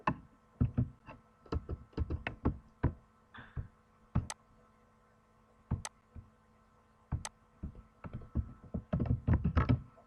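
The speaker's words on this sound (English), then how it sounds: "we will use keyboard to type the data" Irregular bursts of sharp clicks and taps from a computer keyboard being typed on for data entry into a Microsoft Word document, close and fairly clear, with short pauses between runs of keystrokes and no talking.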